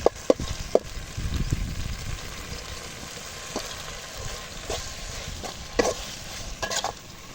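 Dried fish tipped into a hot pan and fried, a steady close sizzle with stirring scrapes and occasional sharp clinks of a utensil against the pan.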